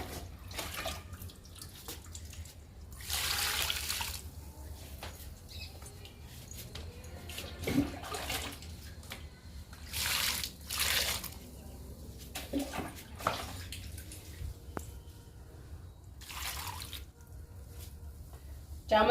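Homemade leaf liquid fertilizer splashes onto potted chrysanthemum plants in several short, close bursts of pouring and trickling water, separated by quieter gaps.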